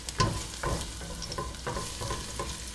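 Garlic cloves browning in plenty of oil at about 160 Celsius give a steady close sizzle, broken by a few soft scrapes and knocks of stirring.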